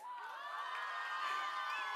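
A school event audience cheers and whoops together, a steady high crowd roar with shrill voices sustained throughout, heard at moderate distance.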